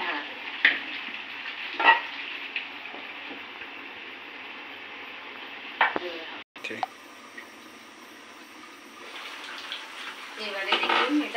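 Curry being sautéed and stirred in a pan, a steady close sizzle with intermittent scraping strokes, a brief dropout midway, and livelier stirring toward the end.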